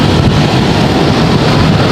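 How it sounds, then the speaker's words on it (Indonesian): Strong wind blows outdoors in Depok, Indonesia, ahead of an approaching storm, buffeting the microphone as a loud, steady roar with no pauses. "baru angin doang di sini"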